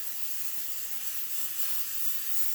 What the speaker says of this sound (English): You take yourself some Pam and you're going to spray your chicken.